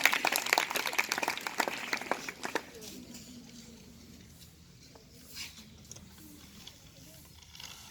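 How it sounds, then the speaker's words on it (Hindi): Applause from students at a school morning assembly greeting a girl coming to the stage, a burst of clapping that fades out after a few seconds into quiet room noise. "जोरदार तालियों से सुदेश का स्वागत करेंगे"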